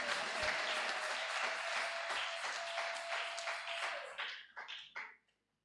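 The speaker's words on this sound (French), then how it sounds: "Est-ce que tu peux acclamer pour la gloire de Dieu?" A church congregation bursts into sustained applause for the glory of God, dense clapping and crowd noise that breaks into scattered claps and fades out at the end.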